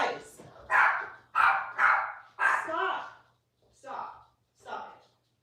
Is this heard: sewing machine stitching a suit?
no